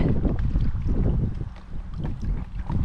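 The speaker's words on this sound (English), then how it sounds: "You can hear the front of the kayak." Small choppy waves slapping against the bow of a kayak paddling along a canal on an autumn day, a steady uneven splashing and knocking close by, mixed with wind buffeting the microphone.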